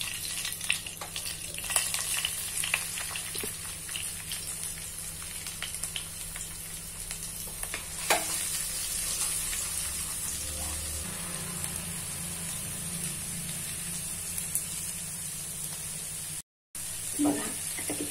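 Hot ghee sizzling steadily in a pan for a dal makhani tadka, a close, even crackle and hiss that runs almost unbroken throughout with a few soft clinks and stirring sounds.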